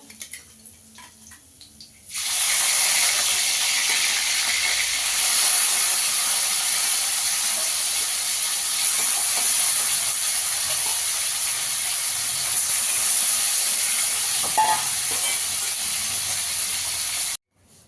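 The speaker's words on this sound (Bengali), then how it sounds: "বাকি মাছগুলো ভেজে নেব।" After a quiet start, chapila fish (small river shad) sizzles loudly in hot oil, a steady bright crackling hiss that runs on and then cuts off abruptly.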